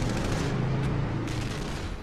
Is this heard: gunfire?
yes